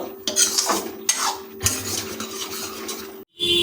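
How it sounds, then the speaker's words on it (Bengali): A ladle scrapes and knocks around a pot of chicken skin ghugni with dried peas, giving repeated metallic stirring strokes and clinks close by, then a short gap near the end. "খুন্তি দিয়ে নাড়িয়ে দেবো আমি আমরা কিন্তু আজকে এখানে খুন্তি না ব্যবহার করে একটা হাতা ব্যবহার করছি"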